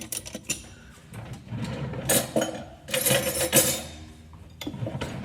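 Spoon clinking and scraping against a glass while syrup is stirred into milk over heaps of ice, a run of light metallic taps and swirls rising and falling, close and moderately loud with no talking.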